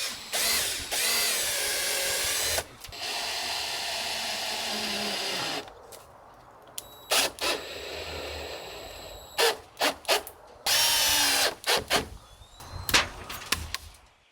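Power drill driving screws into the roof framing of a mobile cabin build, several long whirring bursts and short stop-start pulses with ratcheting clicks, loud and close, with no talk.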